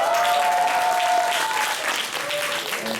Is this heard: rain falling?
no